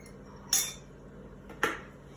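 While Easter biscuit ingredients are mixed in a bowl with a metal spoon, two sharp, close clinks ring out about a second apart, with a quiet background between them.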